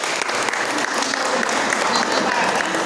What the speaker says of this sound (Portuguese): Então uma salva de palmas para eles